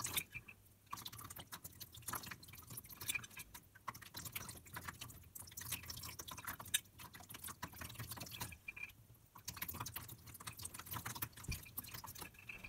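Cold water poured over a heated glass bottle at the cut line to crack it, giving irregular splashing, dripping and trickling close by, with brief pauses in the flow.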